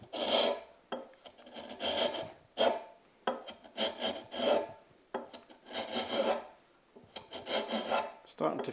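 Short rasping strokes of a hand plane cutting stop shavings across tough end grain on a workbench leg, repeated in quick succession, close and dry with no voice.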